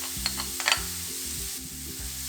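Leeks sauté in a pan with a gentle steady sizzle and a few quick spatula scrapes near the start, while a low musical hum runs underneath.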